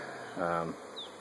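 A swarm of honey bees buzzes around a box, a steady close drone that swells briefly in the middle and then settles back.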